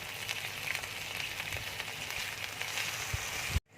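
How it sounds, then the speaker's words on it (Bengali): Onion and vegetables frying in hot oil, a steady close crackling sizzle with a few soft knocks, stopping abruptly at the end. "পেঁয়াজটা হালকা করে ভেজে নেব"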